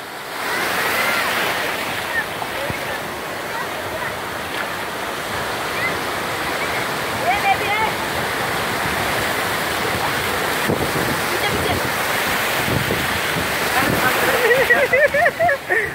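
Ocean surf rolls in steadily at Juhu beach in Mumbai, a constant broadband wash with gusts of wind noise on the microphone and faint voices in the background.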